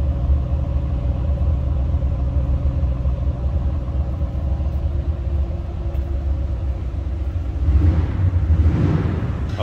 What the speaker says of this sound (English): Nice little throaty exhaust note out of these.